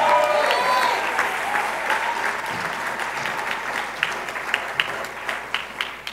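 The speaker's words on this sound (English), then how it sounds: "Let's give her a big round of applause" A town hall meeting audience in Newark claps for the City Council president, a full round of applause that gradually thins out into scattered individual claps near the end.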